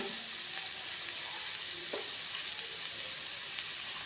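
Okra frying in a pan with green chilies and chili powder, a steady, close hiss of sizzling oil that runs unbroken throughout, with a few soft stirring clicks.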